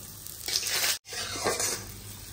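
Asafoetida and cumin with chillies sizzling in hot oil in a pan for khichuri, a loud crackling fry with stirring, cut by one brief silent break midway.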